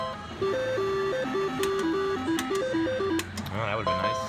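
Triple Red White Blue slot machine at $20 a spin, a bright stepped electronic melody playing as the reels turn, with chimes and a warbling tone near the end and a voice talking over it.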